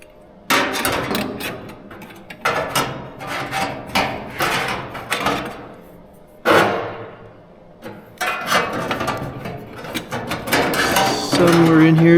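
Hammer blows ring out on the metal body panels of a 1949 GMC roadster, sharp metallic strikes in uneven bursts with pauses between, loud and close, and some brief scraping of metal near the end.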